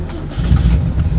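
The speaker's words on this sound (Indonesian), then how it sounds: "gue pingin ngerasain nih hidupin mobil ini" An old, shortened Toyota Corolla engine cranks and catches, a brief starter sound giving way to a loud, deep idle rumble close by.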